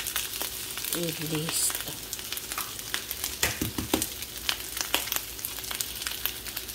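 Three eggs fry in hot oil in a pan for white rice, giving a steady close sizzle with scattered crackles and pops, and a voice speaks briefly.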